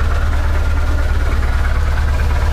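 A vehicle engine runs steadily at close range, a loud, constant low rumble with a faint rhythmic throb and no voices.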